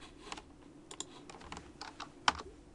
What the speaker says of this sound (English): just by holding the shift and then punching in the numpads